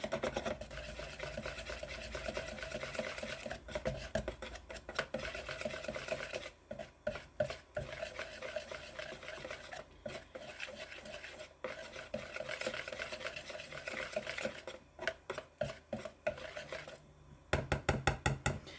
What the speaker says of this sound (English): you want to whisk and make sure that you've got it nice and smooth